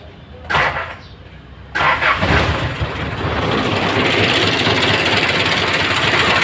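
A car with an engine fault cranks, stalls briefly, then starts and settles into a loud, rough, uneven idle with a shaky rumble that keeps running to the end.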